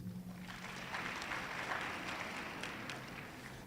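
Clapping from an audience at a certificate handover ceremony, a soft, distant spread of applause that stays even and fairly faint across the whole stretch.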